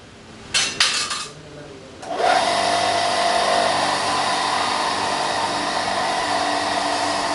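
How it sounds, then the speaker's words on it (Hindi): An electric grinder whirs steadily as it grinds soybean paste for soya milk in a small manual production setup, the motor starting after a few clattering knocks and then running loud and continuous to the end. "और पेस्ट को एक बार फिर से हम ग्राइंडर में डालेंगे।"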